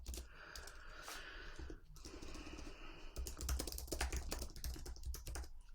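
Quick, soft computer-keyboard typing while a treatment name is entered into a payment-link form, with clicks growing denser and busier toward the end and no voices.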